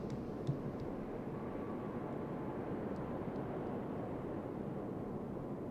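Aircraft drone overhead in the naval battle game World of Warships, a steady, broad engine roar holding constant throughout at moderate loudness with a few faint clicks.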